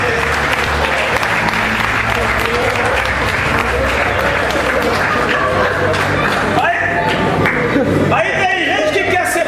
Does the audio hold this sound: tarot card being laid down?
no